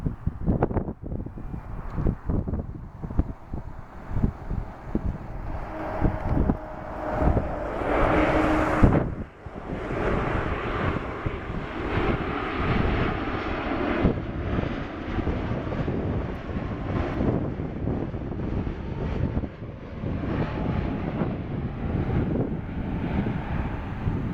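An airliner lands at Dulles airport, a rumbling engine roar that swells and peaks midway, with gusty wind buffeting the microphone and the noise lingering as the jet rolls out.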